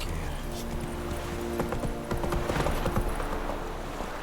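Roach the horse's hooves clip-clop at a steady gait in The Witcher 3, with ambient game sounds and music around them.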